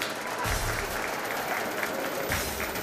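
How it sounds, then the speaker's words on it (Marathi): An audience claps at a school annual prize-giving ceremony, steady applause from a crowd of many hands, moderately distant, with surges at the start and end. "सर्वांनी टाळ्या वाजवतात"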